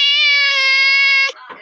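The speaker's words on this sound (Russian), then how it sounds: "Кот." A domestic cat gives a single long, loud, steady meow close up, ending with a short softer trailing sound.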